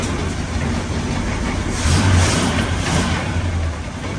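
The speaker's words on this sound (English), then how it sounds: "drive shaft sounds awesome" A 1981 GMC Sierra truck, long parked and newly repaired, drives along with its engine humming steadily and a low drive shaft drone underneath, swelling slightly midway, close and continuous with no talk.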